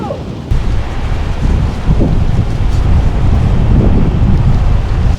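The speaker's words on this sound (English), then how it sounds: "the wind is blowing like crazy" Strong storm wind buffets the microphone on a riverbank at the Cowlitz River, a loud continuous low roar with gusting surges and no talk.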